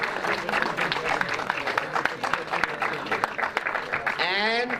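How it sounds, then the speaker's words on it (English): A crowd at a racing event applauds the drivers with dense, sustained clapping, and a voice speaks over the end. "please, one last applause for the drivers."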